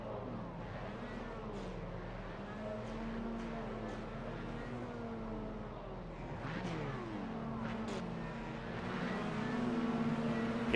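Race cars launching from the start of a race at Motorsport Arena Oschersleben in a racing video game: several engines rev and climb through overlapping gear changes, growing gradually louder toward the end.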